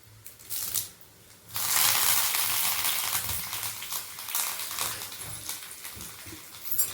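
Chana dal, dried chili and curry leaves dropped into hot oil for tempering, a sudden loud burst of crackling sizzle that settles into a steady frying hiss, close by with no voices.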